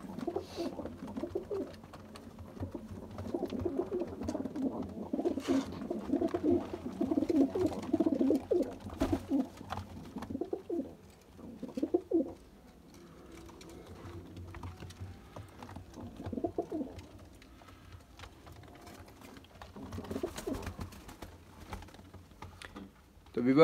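Bodar pigeons cooing softly and steadily in close range, low throaty calls repeating through most of the stretch, with someone speaking intermittently over them and some clicking noises.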